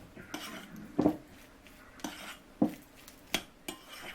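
A utensil stirs herring under a fur coat, a layered beetroot salad, in a bowl, making a series of quiet clinks and scrapes at irregular intervals, close and soft, with no voices.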